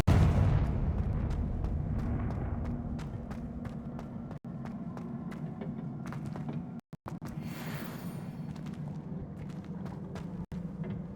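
A Confringo blast spell erupts in Hogwarts Legacy with a booming explosion at the start that fades into a rumbling roar, followed by scattered cracks and footsteps amid ongoing game ambience.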